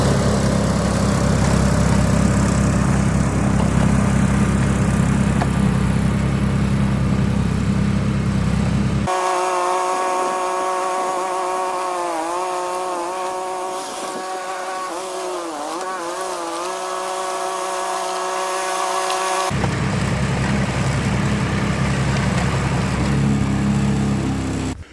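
A stock snowblower engine runs steadily and loud, fading to a smoother, quieter tone in the middle passage before returning full-strength, as snow is thrown in a distance test.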